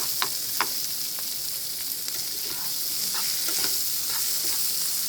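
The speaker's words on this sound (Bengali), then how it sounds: "এখন এই ডিমটা এখানে সুন্দর করে আপনাকে ভেজে নিতে হবে" An egg frying in a pan for vegetable noodles, a continuous sizzle with scattered pops and crackles and occasional light scraping, close and steady with no talking.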